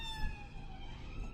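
An ambulance siren wails steadily nearby on the road, its harmonic tone sliding gently down in pitch under low road rumble.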